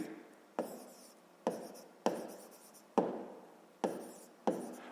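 Chalk or marker writing on a board during a sixth-grade maths lesson: six sharp taps, each followed by a short scratchy stroke, at a fairly steady pace in a quiet room.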